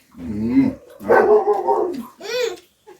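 A dog barks and growls up close in a few drawn-out, whiny bursts, with short pauses between them.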